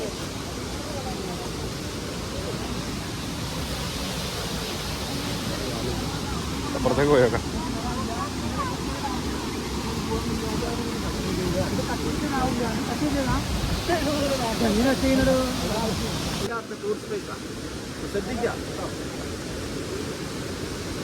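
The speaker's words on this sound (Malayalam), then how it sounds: "ഈ വെള്ളച്ചാട്ടത്തിന്റെ പേരാണ് കക്കയം ഉരക്കുഴി വെള്ളച്ചാട്ടം" Kakkayam Urakkuzhi waterfall in Kozhikode, Kerala, roars as a constant broadband rush of falling water from beginning to end, while people nearby chat and a guide speaks over it.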